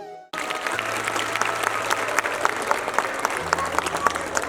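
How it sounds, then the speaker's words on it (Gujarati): An audience at a school annual function for standards 1 to 4 breaks into applause after a short quiet moment, with steady clapping and a few sharper claps standing out, a low hum underneath. "ફરીથી એકવાર જોરદાર તાળીઓ થઈ જાય"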